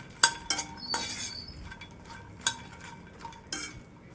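Fox nuts (makhana) dry-roasting in a pan while being stirred: a series of sharp clinks and rattling scrapes at irregular intervals, fairly close, with no talking.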